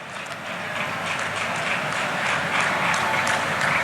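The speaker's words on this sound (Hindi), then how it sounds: "मिलकर करतल ध्वनि करेंगे, सबके लिए तालियों से अपनी शुभकामनाएं देंगे" A large crowd applauds at a Prime Minister Modi public rally in Bilaspur, Chhattisgarh, producing a dense, sustained wash of clapping that stays loud and even throughout.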